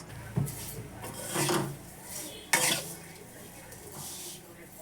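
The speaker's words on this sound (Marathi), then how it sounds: "चला आता आपण शेवया थोड्याशा तुपात भाजून घेऊ" Vermicelli roasts in a little homemade ghee in a kadhai, with a few distinct scraping, rasping stirring strokes against the pan over a low background.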